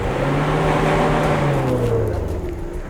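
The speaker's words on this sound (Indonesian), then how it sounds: "Semakin lama, semakin banyak truk yang melintas." Heavy trucks rumble past on a deeply potholed road cutting through private oil palm plantation land, a steady, loud engine drone with a low pitch that slowly falls away as they go by.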